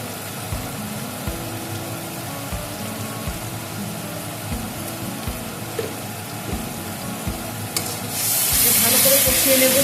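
Spice masala stir-fried in a pan for spicy Bengali pabda catfish curry, with regular rhythmic stirring strokes over a low hiss, then a louder surge of sizzling near the end.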